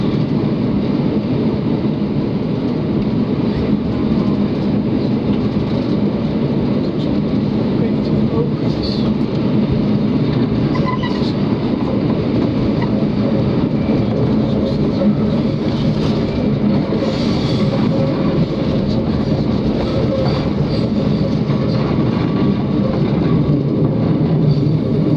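The Overlander passenger train climbing the Raurimu Spiral gives a steady, loud rumble and hum from inside the carriage, with faint rail clatter throughout and no break in the noise.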